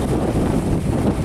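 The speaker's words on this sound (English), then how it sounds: "Oh, it's getting windy out." Strong wind buffets the microphone in a loud, continuous rumbling roar.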